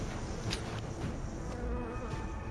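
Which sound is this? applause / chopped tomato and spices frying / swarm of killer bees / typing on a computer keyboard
swarm of killer bees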